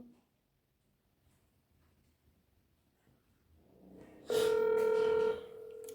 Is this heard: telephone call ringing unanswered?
yes